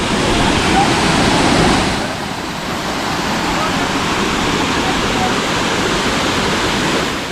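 Roaring Panwal waterfall in the mountains fills the scene with a dense, steady broadband rush, loud and close, with a slight drop in intensity after the first two seconds.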